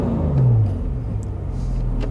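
A Porsche sports car engine rumbles with a deep, throaty exhaust note in loud mode, steady and loud, with a slight swell early on.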